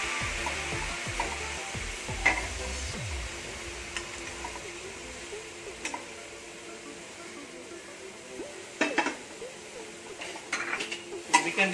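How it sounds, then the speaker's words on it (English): Soaked rice noodles tossed into a hot pan of chicken, spring onion whites and aromatics for Pad Thai, a soft steady sizzle with scattered clinks and scrapes of a utensil against the pan, close by and without talking. "Now it's time to add the soaked noodles."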